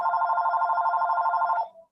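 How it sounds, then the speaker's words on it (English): A phone rings loud and close with a steady electronic trill that lasts about a second and a half, then cuts off, leaving a brief faint tail and silence. "Dylan, I think your phone's ringing."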